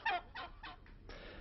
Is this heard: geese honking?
yes